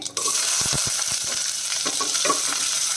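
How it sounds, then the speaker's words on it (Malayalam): Small onions frying with mustard seeds and urad dal in hot oil, a loud close sizzle that bursts in after a moment, with quick repeated scrapes and taps of a spoon stirring through it. "അപ്പോൾ നമ്മുടെ ചെറിയ ഉള്ളി നല്ല രീതിയിലൊന്ന് വഴണ്ട് കിട്ടണം"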